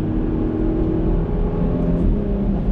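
A 2019 Porsche Macan engine drones and revs steadily from inside the cabin during manual paddle gear shifts, a continuous loud low hum with no talk.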